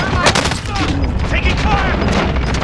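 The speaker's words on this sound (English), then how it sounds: "He is shooting through the wall." Gunfire coming through a wall in the video game Warzone: dense, loud bursts of rapid shots over a busy game mix, with a voice briefly under them.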